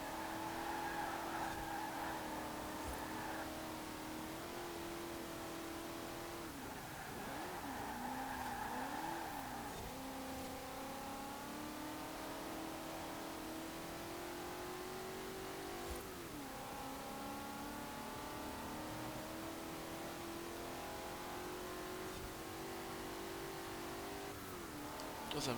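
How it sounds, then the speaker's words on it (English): Racing-game V8 engine from Forza Horizon 4 at a muscle-car beach championship, revving steadily with rising and falling pitch through gear changes, loud and continuous with faint tire noise. "Does have a pretty good sounding V8 though."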